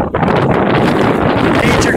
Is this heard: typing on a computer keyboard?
no